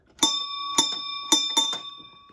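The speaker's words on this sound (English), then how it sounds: "So I wanted to exaggerate the motion so you could just flick the lever and cause the bell to ring." A bell on a home-built electric ride-on rail truck of 7.5-inch gauge is struck five times by a lever, each bright metallic ding ringing on briefly, close and clear.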